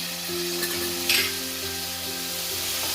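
Coriander and curry leaves sizzle steadily in a pan for a goat blood curry, with a soft stirring scrape partway through and a faint hum underneath; no one speaks.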